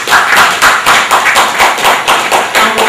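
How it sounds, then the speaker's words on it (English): Applause from an audience at a business awards programme, heard as loud rhythmic bursts of clapping in regular pulses, close and dominant, with no speech. "We want to give him a special round of applause."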